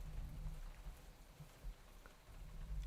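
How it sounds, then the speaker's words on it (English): Heavy rain falling steadily, a dense continuous hiss with low rumble, fairly quiet and unbroken, with no voices. "It's raining so hard."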